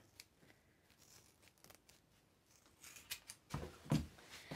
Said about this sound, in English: I'm just going to cut away the excess there too